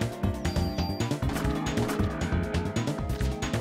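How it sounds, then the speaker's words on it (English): Crows attack in the video game Parasite Eve, their harsh cawing and squawking mixed with dense game music and impact sounds in a busy, steady stream. "Crows are aiming for my fucking eyes."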